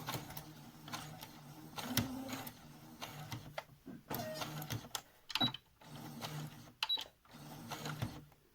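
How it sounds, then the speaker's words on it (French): A sewing machine stitching a fabric face mask, running in short bursts of fast mechanical clatter separated by pauses, close and moderately quiet, with occasional small clicks and handling noises. "Après, je refais la couture."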